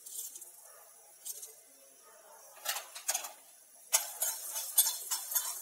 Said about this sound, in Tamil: ஸ்டவ் மீடியம்லேயே வச்சு நம்ம இதை ஃப்ரை பண்ணிக்கலாம்